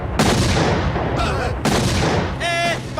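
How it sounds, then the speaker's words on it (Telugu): A bomb blast erupts in a Telugu comedy film scene as two loud booming bursts, each a sharp onset with a rumbling tail, separated by a brief lull with faint voices in between. "బాంబు పేలింది."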